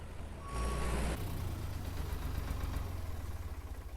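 The CX tractor in Farmer's Dynasty idles with a low, steady engine rumble, and a brief bright beep sounds near the start before the engine drones on alone.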